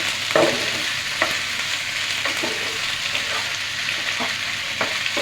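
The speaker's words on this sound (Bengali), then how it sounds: "এখন দিয়ে আমি এটাকে একটু ভালো করে নাড়াচাড়া দিয়ে আবার একটু ভেজে নিব।" Malabar spinach frying in a pan, a loud continuous sizzle close up with repeated spatula strokes and scrapes at uneven intervals, no talking.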